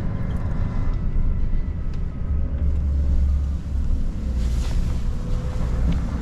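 A vehicle driving along a road on the way to load sprinkler pipes, with steady loud engine and road rumble and some wind noise running throughout, no talking.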